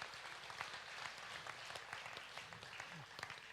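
Sustained crowd applause at a swine show during a state fair, steady dense clapping from many people in a hall, holding at an even level throughout with no voices over it.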